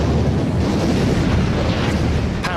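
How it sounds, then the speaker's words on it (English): Archival WWII naval bombardment of the Normandy coast by battleships, cruisers and destroyers, heard as a dense, continuous rumbling roar of gunfire and blasts with a brief whistling sweep near the end, loud and unbroken. "200 ships bombard 50 miles of the Normandy coastline."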